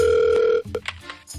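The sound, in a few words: telephone ringing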